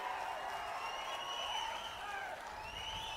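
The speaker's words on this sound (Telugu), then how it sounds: "గట్టిగా చప్పట్లు కొట్టి హర్షాన్ని," A large crowd at an outdoor public meeting in Nellore claps steadily, with the applause sounding distant and diffuse. Faint cheering and crowd murmur mix in throughout.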